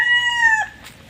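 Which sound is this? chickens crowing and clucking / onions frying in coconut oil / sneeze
chickens crowing and clucking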